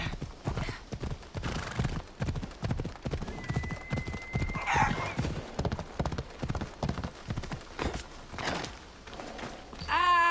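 A horse ridden at a steady pace in Assassin's Creed Odyssey, its hooves clip-clopping in a brisk, even rhythm close by, with a brief whinny partway through.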